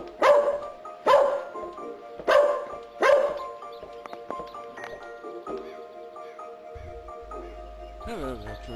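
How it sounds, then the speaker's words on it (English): A dog barks four times in an evenly spaced run, loud and close, then gives a few softer, scattered sounds. A person talks during the barking, and a brief electronic warble follows near the end. "Stop barking, son."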